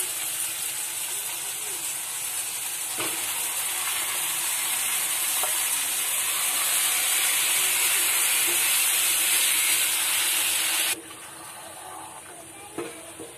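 Marinated chicken frying in a pan over half-melted tomato on a gas stove for chicken biryani, giving a loud, steady sizzling hiss that runs unbroken and then drops noticeably quieter near the end, with a few faint clinks.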